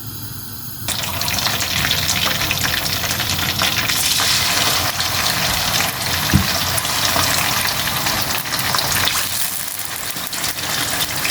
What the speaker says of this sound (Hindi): इसके लिए फ्लेम को मैंने ऑन कर लिया है और पहले सबसे मैं अपने मटन को फ्राई कर लूँगी।